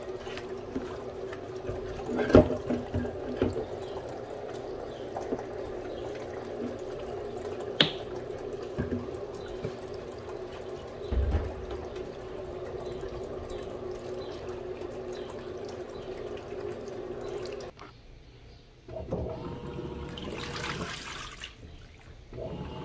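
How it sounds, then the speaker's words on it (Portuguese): An Electrolux Turbo Economia 6kg washing machine fills with water in a steady, continuous rush with a low hum, broken by a few small knocks and splashes, then shifts to a quieter, more hollow pouring near the end. "ele espirra um pouco de água na hora que ela começa a encher"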